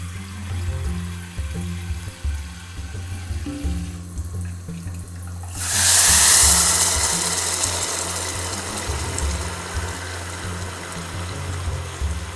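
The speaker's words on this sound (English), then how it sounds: "Our pan is already really hot, so that water is immediately starting to boil." Water pours and splashes into a hot pan holding rice and vermicelli, then a loud hiss and bubbling rush of boiling takes over, steady and close, over a low background hum.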